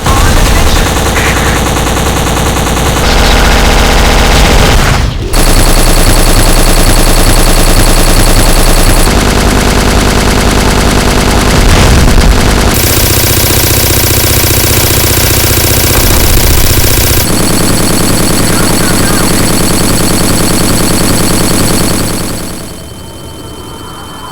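Loud, relentless gunfire from the 2006 video game Black, rapid automatic bursts rattling continuously with shifts in weapon tone before fading out at the end.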